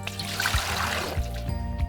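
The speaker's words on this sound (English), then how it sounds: "we're gonna make salt water with 5 cups of water" Water pours steadily into a bowl to make salt brine for a small batch of Korean kimchi, a continuous close trickle and splash over soft background music.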